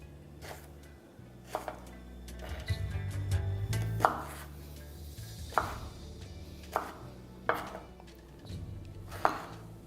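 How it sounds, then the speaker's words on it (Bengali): A knife cutting ridge gourd into long pieces on a board, about six or seven sharp, evenly spaced chops over a low kitchen hum, close and moderately loud, with no talking. "ঝিঙেটাকে আপনাদের একটু এরকম বড় বড় করে প্রথমে কেটে নিতে হবে।"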